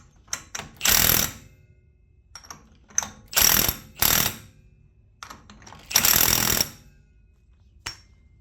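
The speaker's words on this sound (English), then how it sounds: "Now we just make sure we tighten up this axle nut." A ratchet wrench tightens the axle nut on a Dodge Ram hub during a wheel bearing replacement, giving bursts of rapid metallic clicking separated by pauses, close and crisp, with no speech.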